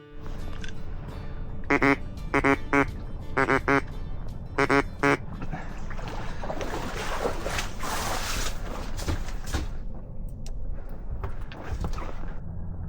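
A mallard drake quacks in several loud, close bursts of repeated calls during a duck hunt in Arkansas, over a steady background of wind and rustling, with no one talking.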